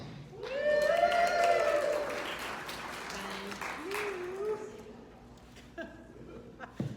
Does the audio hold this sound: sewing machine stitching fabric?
no